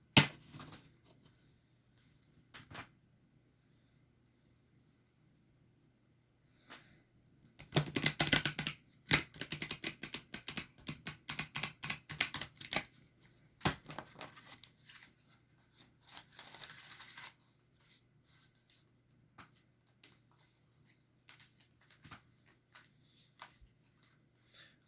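Cards are shuffled by hand in quick papery riffles and taps, bunched mostly in the middle, with quiet stretches and soft handling noises around them.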